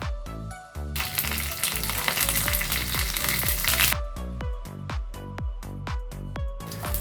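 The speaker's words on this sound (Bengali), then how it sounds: "ফোড়নে থাকবে সর্ষে, কাঁচা লঙ্কা, কারি পাতা। এবার কারি পাতা দেওয়া হচ্ছে।" Mustard seeds, green chillies and curry leaves fry in white oil as a tempering for a South Indian vegetable sabzi, a loud, close crackling sizzle that flares as the leaves go in, with background music.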